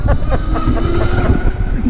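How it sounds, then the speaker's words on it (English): A Zero SR/S electric motorcycle at speed, a steady whining motor tone over heavy rushing wind buffeting, loud and continuous throughout with no distinct beats. "They say that this bike is silent, but it's not. This is the noise it makes."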